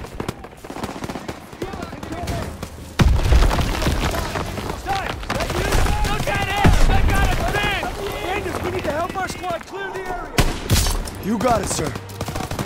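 Rapid bursts of gunfire in the Call of Duty WWII Death Factory level, loud and repeated through the battle noise, with a voice briefly answering over the shots.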